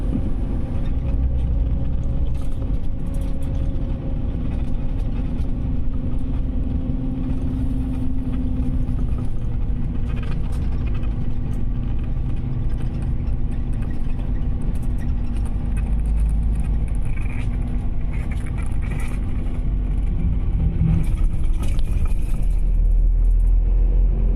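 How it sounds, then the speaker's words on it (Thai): Steady low rumble of a VIP bus engine running at slow speed as it pulls into the Buriram bus terminal, a continuous mid-level drone heard from inside the cabin with no talk. "ตอนนี้รถกำลัง มุ่งหน้าตรงเข้าไปที่ สถานีขนส่งผู้โดยสารจังหวัดบุรีรัมย์ครับ"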